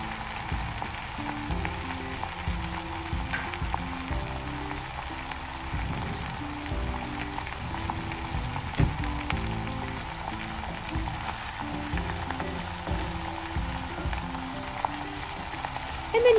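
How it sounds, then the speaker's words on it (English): An egg fries in a pan for a feta fried egg, giving a continuous, moderately loud crackling sizzle with fine popping and a short clunk at the very end. "You basically want to cook your egg for as long as you tend to cook your fried eggs for."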